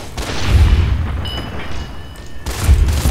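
Heavy booming gunfire in Fallout: New Vegas, two or three loud low blasts spaced about two seconds apart with rumbling decay between.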